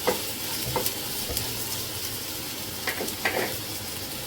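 Onions sautéing in a pan for a prawn fry, a steady low sizzle with a few sharper stirring scrapes, close and alone, no voices.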